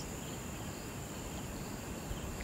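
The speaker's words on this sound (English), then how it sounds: "The two had become entranced once again with the melodic chirps of the crickets and" Crickets chirp at night in a dense, steady, faint chorus that stays even and unbroken throughout, with no voices.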